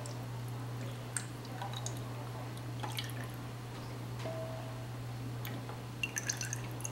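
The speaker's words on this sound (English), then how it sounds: "I'm just going to pour the grease into the can." Grease pours from an OXO fat separator into a can, producing soft dripping, squishy trickles and faint taps, quiet and close against a steady low hum.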